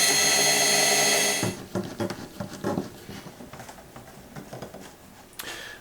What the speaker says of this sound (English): Just going to put in a couple of screws from behind.